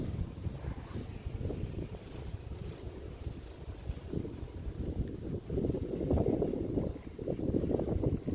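Wind blowing outdoors during a snowstorm, a steady low rumbling roar with gusts that swell louder toward the end, and no voices.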